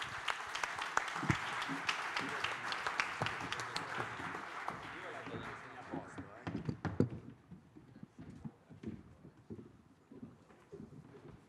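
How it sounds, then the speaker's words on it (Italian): A conference audience gives a round of applause that starts full and lively, then thins into scattered, fading claps, with talk heard over the tail. "salutando con un rinnovato applauso il professor Mario Melazzini"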